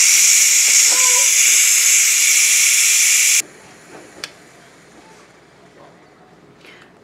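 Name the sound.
steam venting from Ninja Foodi pressure cooker valve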